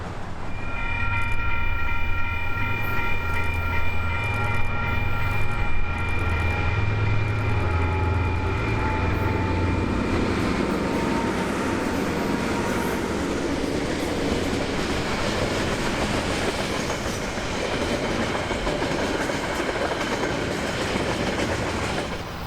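A long container freight train rumbles steadily past nearby in New Zealand, heading to the inland port at Wiri, with a continuous roar of wheels and clattering wagons and a whining engine tone early on.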